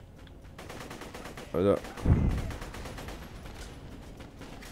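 Shots from an imprecise weapon in Borderlands: The Pre-Sequel crack out in a rapid burst followed by a heavier blast, loud over a busy background, with someone briefly speaking nearby.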